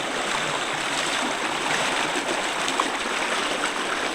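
Floodwater flows near a house in a continuous, loud rushing wash, steady throughout with no talking.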